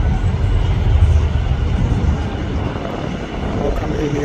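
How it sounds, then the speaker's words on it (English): Emirates Boeing 777 airliner arriving to land at Nairobi, a deep continuous engine roar with heavy low rumble and wind noise, steady and fairly loud throughout. "Look at who is dropping to Nairobi. This is the Emirates Boeing 777"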